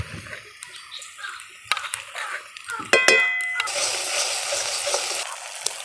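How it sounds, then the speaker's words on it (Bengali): Chopped onion, ground spice paste, bay leaf and cumin fry in oil for a pointed gourd curry, with scraping and clinking of stirring that gives way to a steady, louder sizzle in the second half. "মশলাগুলো ভাজা ভাজা হয়ে গেছে"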